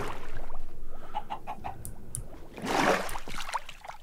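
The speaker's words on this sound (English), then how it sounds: "Hi, Mr. Chicken." A chicken in the Minecraft video game clucks in a few short bursts over a soft background, one louder cluck near the end, with no talking.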